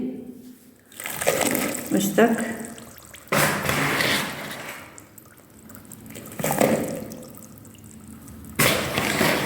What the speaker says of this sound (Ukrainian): у відро я ось набрала скільки води, ну тут десь літр. І висипаю сюди